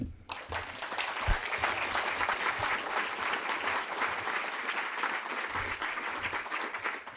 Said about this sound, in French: Je vous demande d'applaudir vos élus.